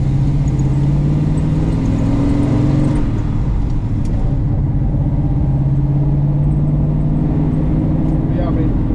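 A 1970 Plymouth Superbird clone with a 528 HEMI engine drives along, a deep steady engine rumble close by with a low drone that shifts pitch slightly as speed changes, and a voice talking over it.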